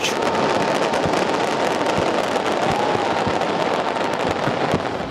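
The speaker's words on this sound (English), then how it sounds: "millions of dollars worth of high-tech fireworks and effects exploded from our bridge" New Year's fireworks explode from Sydney Harbour Bridge in a dense, continuous barrage of crackling bursts and sharp pops, heard from a distance with steady loudness.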